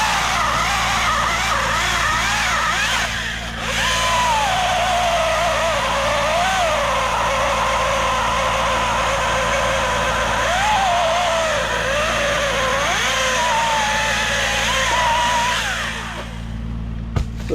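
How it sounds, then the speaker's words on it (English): A Husqvarna 530 IP4 pole saw runs while cutting tree limbs during heavy pruning: a loud, steady engine drone whose pitch swells and dips as the chain bites, continuing almost without a break before cutting off near the end. "this pole saw that I'm using, it's a Husqvarna, the 530 IP4"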